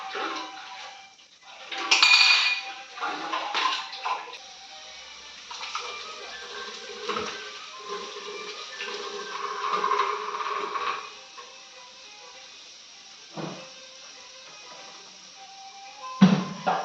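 Vessels are washed by hand in a home kitchen: intermittent clinks and clatters of dishes and utensils, a splash of running water, and scattered knocks, fairly close but modest in volume.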